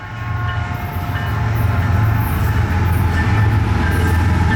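An eastbound CN mixed freight train passes in Ingersoll, Ontario, a steady loud rumble of rolling wagons and rail noise with brief higher squeals, heard from trackside.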